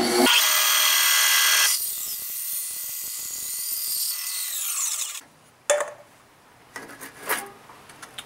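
A miter saw cuts in a workshop while building an alcohol stove: a loud, high whirring cut for nearly two seconds, then the motor winding down, followed by a few sharp knocks and clanks.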